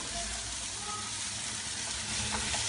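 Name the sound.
onions and carrots sautéing in a pan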